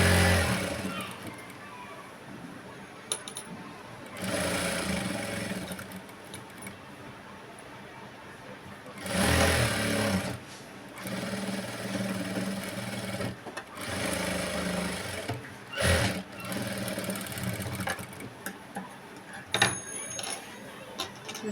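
A home sewing machine runs in several bursts of stitching along a blouse seam, its whirring motor rising and stopping with short pauses between runs, close and fairly quiet.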